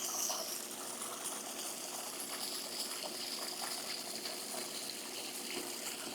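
A pool sand filter backwashes, with water rushing steadily out of the waste line as a continuous, even gush that stays near and unbroken throughout.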